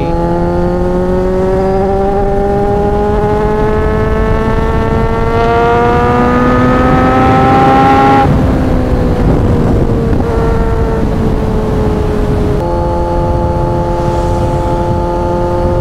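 A 1000cc motorcycle pulls hard through the gears with strong torque, its engine note climbing steeply, dropping at a quick shift and climbing again, loud and close with wind buffeting and no talk.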